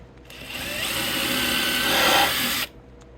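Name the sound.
power drill pre-drilling corners of yellow birch nest box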